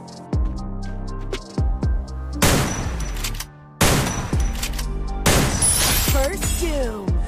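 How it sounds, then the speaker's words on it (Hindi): M590 shotgun blasts in a mobile battle royale game, several loud booming shots in quick clusters with ringing tails and shattering sounds, heard close over game audio. "M590 से नॉर्मली 2 शॉट्स में नॉक हो जाता है, लेकिन स्टेफी के अंदर रहने पर 3 शॉट्स लगते हैं।"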